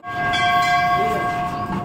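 Toy train at Eco Park Kolkata sounding a sustained steady horn close by, with rolling rail noise underneath and faint voices in the background.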